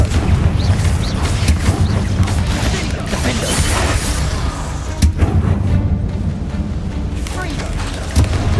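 Bombarda and Confringo spells exploding in Hogwarts Legacy, heavy booms and sharp blasts over a rumbling game soundscape, with a voice talking at times.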